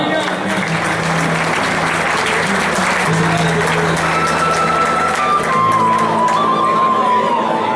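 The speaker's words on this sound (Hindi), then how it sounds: "बहुत सारी तालियां" Loud, steady applause from a crowd at a prize-giving ceremony for a tournament in Isakhel, with scattered shouts and cheers lasting throughout.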